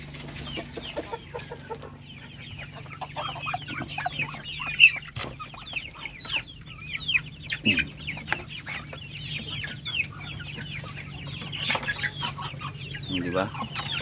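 Native Darag chickens peck at saresa fruit, giving off soft, repeated clucks and short calls over a quiet outdoor background, with a few louder notes now and then.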